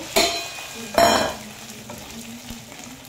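Pre-fried potatoes dropped into spices in a hot pan set off two sharp bursts of sizzling, the second longer, before the frying settles to a quieter hiss with a soft stir.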